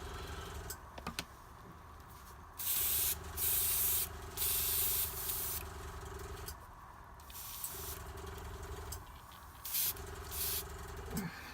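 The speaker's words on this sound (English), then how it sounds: "we want a nice thin varnish to go through the airbrush" Airbrush spraying thin varnish over a painted Blood Angel Librarian miniature, giving soft hissing bursts in a few short pulses over a steady low compressor hum, close and fairly quiet.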